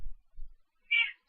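An unhappy domestic cat lets out a single brief meow near the end, close and fairly clear, after some low thumping sounds in a quiet room.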